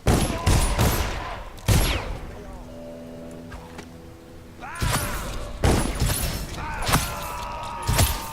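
Gunfire in the stealth action video game Dishonored, several loud sharp shots and bursts with metallic ringing tails, a quieter stretch with a lingering hum between them, and voices of game characters over it.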